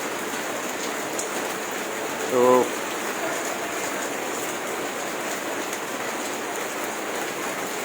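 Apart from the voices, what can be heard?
heavy rain falling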